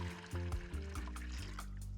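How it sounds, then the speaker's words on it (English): Hot water poured into a container to start a salt brine for smoking wahoo, a steady close trickle and splash with shifting pitch as the vessel fills, lasting about two seconds with no voices. "First add 1 quart hot water."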